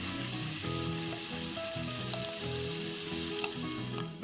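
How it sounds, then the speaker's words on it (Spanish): Mushrooms cook with onion and garlic in a pan for chicken breasts in mushroom sauce, a steady close sizzle and crackle of frying running continuously with faint stirring. "Mientras que nuestros champiñones están cocinándose con la cebolla y el ajo"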